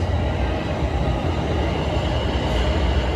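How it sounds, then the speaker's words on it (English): A TTC subway train pulls out of Highway 407 station in January, its steady, loud rumble of wheels and motors rolling on unbroken close by. "I'll probably end the video after this train leaves Highway 407 station."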